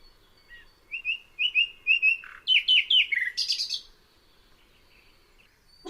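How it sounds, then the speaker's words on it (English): A nightingale sings on an August day in Essex: a series of clear, rapid whistled and trilled phrases over a few seconds, fairly close, then silence, with no voices. "Nightingale."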